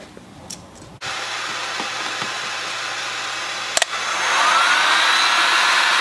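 A heat gun warms the chamber of an 1866 Winchester rifle, blowing a loud, steady rushing hiss that starts abruptly after a brief click and swells slightly louder toward the end.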